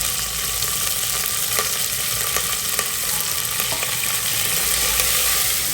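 Onions and curry leaves sauté in a pan, making a dense, steady frying hiss with faint stirring taps running throughout.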